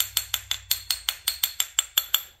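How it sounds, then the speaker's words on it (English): Hammer on dolly technique on a badly dented fender: a steady series of about a dozen light, evenly spaced metallic tings, close and crisp, with no voices. "which is a hammer on dolly technique. And we're still going to hear that ting"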